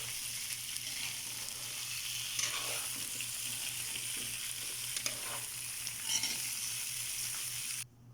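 Shrimp, squash and mung beans sizzle in a pan as they are stirred, a constant fry hiss with occasional scraping strokes, close and fairly quiet.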